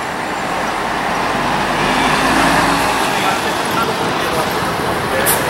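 A Pássaro Marrom intercity coach moves through the Tietê bus terminal in São Paulo, its steady engine rumble and road noise loud and close, swelling slightly mid-pass amid general terminal traffic, with a voice talking over it.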